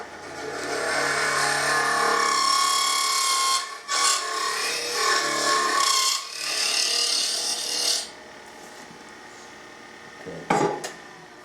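A small wooden box being hollowed on a lathe, with a steady scraping cut of wood shavings against the tool that runs in long, loud passes, pauses briefly, then resumes before trailing off into quieter spinning and a few clicks.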